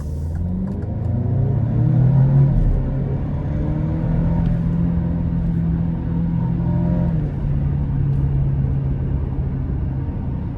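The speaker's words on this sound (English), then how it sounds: "we'll give it a little gas and see what the Stelvio is really all about" An Alfa Romeo Stelvio turbocharged four-cylinder SUV accelerating in dynamic mode, the engine note rising steadily then holding a loud sustained drone, heard from inside the cabin with road rumble beneath.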